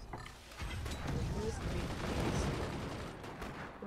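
Gunfire in the multiplayer strategy game Forts on a debris field map, a dense, continuous barrage of shots and impacts layered with other game noise, with a voice talking over it.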